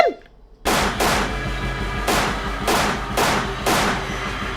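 Gunfire from a scene in the TV series Hannibal: about five loud, sharp gunshots spaced roughly a second apart after a brief quiet lead-in, each with a broad reverberant tail.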